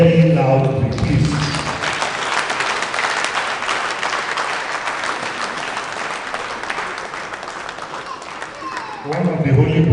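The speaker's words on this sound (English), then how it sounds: "I want to ask for your indulgence to applaud our outgoing chairman very loudly" Loud, sustained audience applause for an outgoing chairman at an engineering institution's investiture ceremony, dense clapping filling most of the clip before a voice returns near the end.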